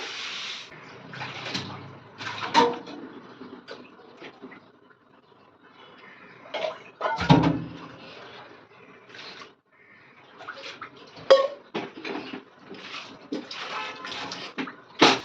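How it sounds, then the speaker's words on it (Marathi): A kitchen counter being scrubbed and washed down, patchy bursts of rubbing and splashing water with short pauses between strokes, close and moderately loud, with no talk. "सगळ्या शेवटी आता कट्टा घासून घेतोय"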